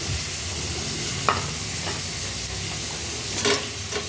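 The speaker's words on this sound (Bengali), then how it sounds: "পেঁয়াজটা দিয়ে দিলাম, পেঁয়াজটা ভাজা হোক।" Sliced onions fry in a pan for a lauki dum dish, giving a steady, close sizzle with a few soft clinks of stirring, with no talking.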